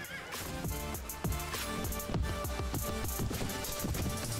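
A horse whinnies loudly several times in a row in the video game Prophesy of Pendor, with hoofbeats clopping underneath, close and continuous.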